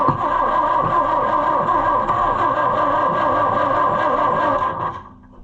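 An Oliver 550 diesel tractor engine cranks without catching, a steady, rhythmic churning from the starter that runs for several seconds, loud and close, then cuts off.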